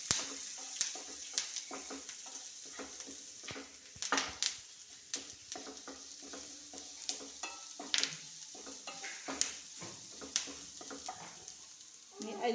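Curry leaves and ginger garlic paste fry in a pan, a soft sizzle punctuated by frequent sharp stirring taps and scrapes, with a faint voice at times.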